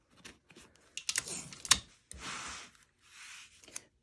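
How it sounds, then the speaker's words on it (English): Strips of tape torn and pressed onto a bag in a series of short rips and scratchy pulls, several bursts a few seconds apart, close and fairly quiet with no voices. "Then I'm going to tape it in place."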